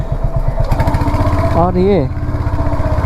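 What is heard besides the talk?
noise from Royal Enfield Hunter 350 motorcycle after service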